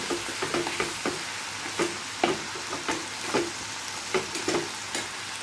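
Red amaranth greens (lal shak) frying in a pan, with a steady close sizzle broken by repeated scraping clicks of stirring at an irregular pace, no voices.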